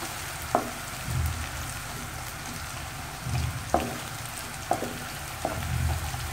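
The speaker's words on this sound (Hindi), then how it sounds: "प्याज हमारी ब्राउन होने लग गई है" Onions frying and browning in a pan, a continuous close sizzle with a few soft clinks and stirring knocks spaced through it, steady and moderately loud with no talking.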